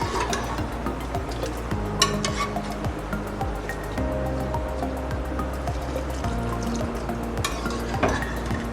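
Chicken yakhni stock pours into soaked rice in a pot, a steady close splashing and gurgling of liquid with occasional drips and clinks, running continuously throughout.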